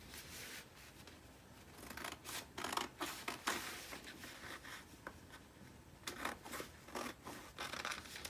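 Scissors cut fabric for a jacket dress, a soft, close series of snipping and slicing strokes in irregular bursts, quiet and with no talk.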